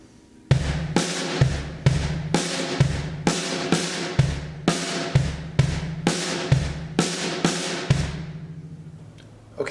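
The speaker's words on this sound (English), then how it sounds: "So if you play it between the bass drum and the snare drum, it sounds like this." Eighth-note paradiddles played between bass drum and snare drum, a steady run of crisp alternating hits, close and loud, ringing out briefly at the end.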